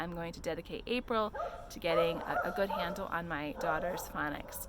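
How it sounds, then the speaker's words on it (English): Dogs bark and yip repeatedly in the background while someone talks steadily over them. "Sorry about the barking dogs"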